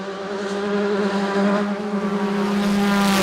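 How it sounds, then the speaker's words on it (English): A small race car engine at the Finke Desert Race in the Australian desert, a sustained loud buzzing drone with a steady pitch, holding on through the whole stretch without voices. "Car still sounding good, just having a little listen there."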